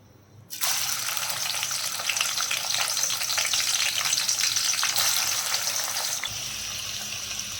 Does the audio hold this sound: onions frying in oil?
yes